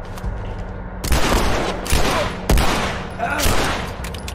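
Gunfire in The Last of Us, with several sharp shots in quick succession over a dense, noisy game soundscape, loud and close.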